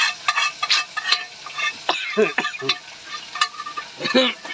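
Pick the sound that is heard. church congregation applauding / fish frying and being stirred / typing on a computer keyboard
fish frying and being stirred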